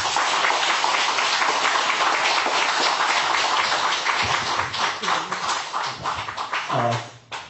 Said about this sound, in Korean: 자, 박수로 다시